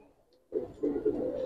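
A domestic fancy pigeon, held close by its breeder, coos in two or three low, throaty pulses after a brief quiet moment.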